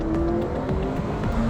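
A McLaren turbo engine with a titanium exhaust on a road-legal race car pulls hard toward 8500 rpm, a loud, close, continuous roar whose pitch shifts as it climbs, with no talk over it.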